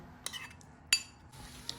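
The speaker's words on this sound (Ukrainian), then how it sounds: "Перемішуємо." A spoon clinks against a bowl a few times, with light scraping between the taps as a mixture with melted butter is stirred, close and fairly quiet.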